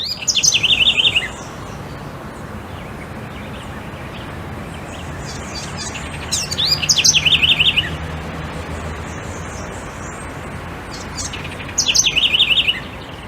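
Small songbird, palm-sized at about 13 grams, from Rio das Pedras, Brazil, singing three short bright trilled phrases spaced several seconds apart over steady outdoor background hiss.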